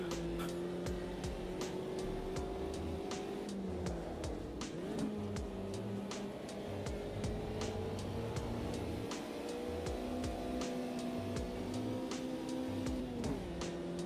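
A race car engine in the Automobilista 2 sim racing game holds a steady high drone that climbs and dips through gear changes, with a continuous whine and rapid ticking over the constant engine noise.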